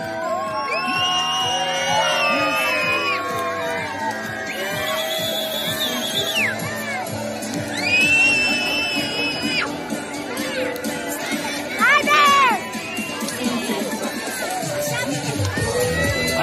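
A crowd of children at an outdoor festival activity in Reghin cheers, whoops and shouts loudly in rising and falling waves, high voices overlapping continuously with a few sharp bursts of screaming.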